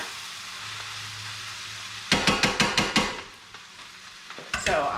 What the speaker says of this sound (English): I'm going to scrape the bottom of the pan and toss it over.